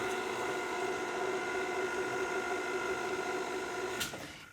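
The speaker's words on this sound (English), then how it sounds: "pull down your stand mixer and then just give it a few mixes" Steady mechanical whir of a stand mixer blending dry ingredients for challah dough, running continuously at an even level before a brief clatter near the end as it winds down.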